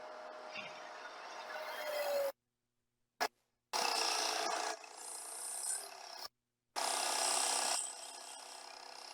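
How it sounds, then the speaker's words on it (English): Sandpaper rubs against the outside of a wooden box in repeated rasping strokes, close and fairly quiet, with short pauses between passes. "before it gets too small, you can sand the outside of the box."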